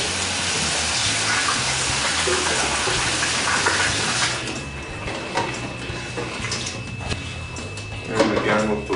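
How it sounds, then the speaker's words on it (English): Winemaking equipment getting a quick rinse with running water, a steady gush that eases off midway into lighter splashes and knocks, with talk over the water. "We'll just give this a quick rinse."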